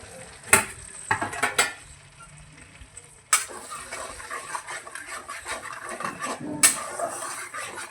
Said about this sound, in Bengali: টমেটোটা দিয়ে ভালো করে নাড়াচাড়া করে নিই